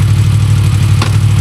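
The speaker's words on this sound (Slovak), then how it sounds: "Motor žerie jedničky." A motorcycle engine idles loudly and steadily at close range with a deep, even rumble, and a brief blip of noise comes about a second in.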